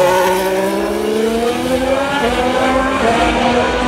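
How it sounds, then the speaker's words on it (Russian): Formula 1 race cars at the 2018 Sochi Grand Prix roar past beneath a spectator walkway, a loud continuous high-revving engine whine with rising and falling pitch as cars stream by, no talk over it. "А под нами будут машины Формулы 1 проезжать."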